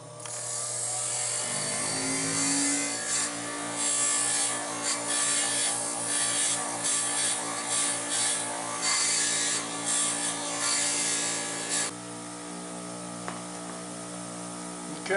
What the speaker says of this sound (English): Just with 2 passes of the grinder, I've taken all that off.